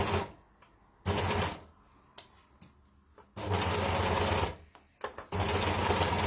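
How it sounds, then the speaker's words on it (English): An overlocker stitches around the edge of a shoulder pad, its motor whirring in loud continuous bursts separated by short pauses, with no talking. "And then go to your overlocker and just go around the edge."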